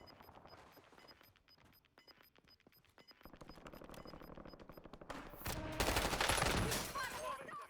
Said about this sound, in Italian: Sparano addosso.